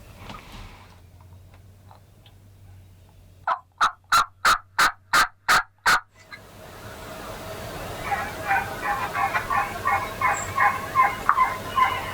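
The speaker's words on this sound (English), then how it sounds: "It's exciting to hear some birds gobbling." Wild turkey gobblers gobble in spring woods, first a close, loud burst of rapid rattling pulses, then more distant, fainter gobbling repeating over a steady outdoor background.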